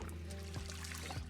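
Water running from a sink in the Project Zomboid video game as a bottle is filled, a brief steady splashing trickle with a low hum beneath and no speech.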